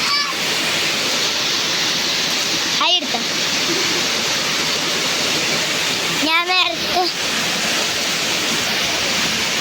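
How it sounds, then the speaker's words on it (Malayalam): Steady, dense rain pours over a rubber plantation behind a house, a continuous hiss that never lets up while a person talks over it in a few short bursts. "മഴ എൻ്റെ മേത്തേക്കൊക്കെ ചാറുണ്ട്."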